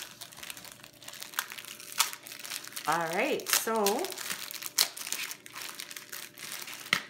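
Taped diamond painting kit packaging crinkles and crumples as it is pulled open, with scattered rustling bursts throughout while a person speaks over it.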